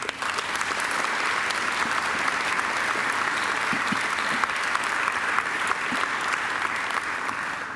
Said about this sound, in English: Professor Harrison deserves another great round of applause